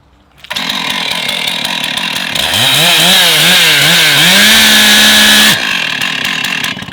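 A chainsaw at full revs cuts into wood during a saw cut test, rising to a loud sustained whine with wavering pitch as it bites the log, then cutting off abruptly near the end.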